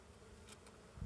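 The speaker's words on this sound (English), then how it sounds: "I am sitting in bees. This is so cool. Like, look at this. There's bees everywhere." Honey bees buzz around a hive in a faint, steady, low hum that lasts about a second, with no voices over it.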